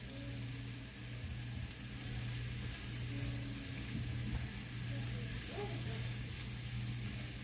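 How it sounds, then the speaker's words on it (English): Mushrooms sizzle softly in a pan with butter while being stirred, a faint steady hiss under a low background hum, with light scraping movement throughout. "we're just going to stir these mushrooms around in there"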